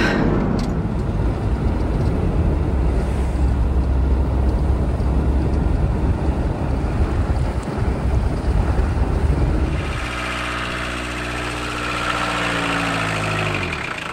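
A VW T3 Syncro bus on the move, its engine giving a steady loud drone mixed with wind buffeting on the microphone, before the sound shifts to a smoother, lower hum near the end.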